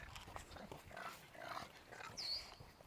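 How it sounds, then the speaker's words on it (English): A dog barks at horses in a farm barn during the evening feeding chores. The barks are faint and distant against low background noise, with a brief higher yelp near the end. "Smurf always thinks it's a good idea to bark at the horses."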